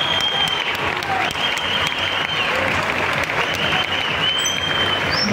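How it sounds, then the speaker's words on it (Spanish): Steady, dense applause from a crowd at an MMA fight event, loud and continuous throughout with no break. "Aplausos para estos peleadores."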